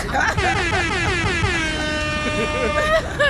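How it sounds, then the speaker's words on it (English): A loud, sustained air horn blares continuously for a few seconds, with voices talking underneath. "Where the air horns at?"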